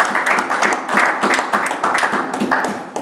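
A church congregation claps and cheers in praise during a worship service, a steady rhythmic burst of hand claps with voices mixed in, fairly close and lively throughout.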